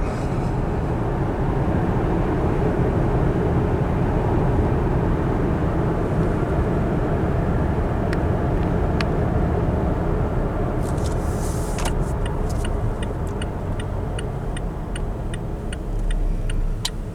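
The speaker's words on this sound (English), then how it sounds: "you can kind of hear the RPMs" Steady low engine drone from a 2023 Toyota Tacoma 4WD 2.7L four-cylinder pickup while driving, heard from inside the cab with constant road rumble and a few faint clicks, no talking.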